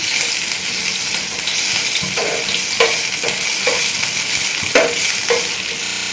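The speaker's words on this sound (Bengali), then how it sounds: "এখন গ্রেট করা আদা কুচিটিকে একটু গরম তেলে ভেজে নেব গন্ধটা কাটানোর জন্য" Grated ginger frying in hot oil tempered with cumin and dried chillies, a loud continuous sizzle punctuated by several short spatula scrapes against the pan, with no speech.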